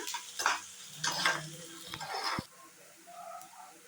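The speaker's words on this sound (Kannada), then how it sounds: "ಈರುಳ್ಳಿನ ಹಾಕೊಂಬಿಡೋಣ ಈರುಳ್ಳಿನ ಫ್ರೈ ಮಾಡ್ಕೊಳ್ಳೋಣ ಇದು ಗೋಲ್ಡನ್ ಬ್ರೌನ್ ಬರೋವರೆಗೂ ಇದನ್ನು ಫ್ರೈ ಮಾಡ್ಕೊಳ್ಳೋಣ" Onions frying in a pan for a hotel-style masala dosa filling, cooked until golden brown: a steady sizzle under repeated stirring scrapes, louder for the first couple of seconds, then a softer, quieter fry.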